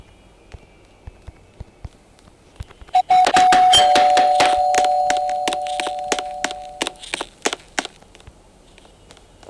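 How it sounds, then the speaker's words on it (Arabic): An apartment doorbell in Roblox rings with a steady electronic buzzing tone for several seconds, loud and close, with soft game footsteps and clicks before and after. "اروح ارن الجرس على الشقه دي"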